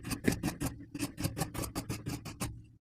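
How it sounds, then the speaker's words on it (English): Scissors cut through denim skirt fabric with a rapid, even run of about a dozen crisp snips close up, ending in a short fade. "I'm going to cut away that 3/8 of an inch from the left front skirt as worn."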